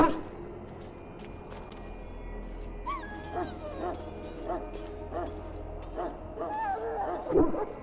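A dog in the video game Dragon Age: Origins whimpering and yipping, with faint, repeated high whines and short yelps over a quiet background, growing slightly louder toward the end.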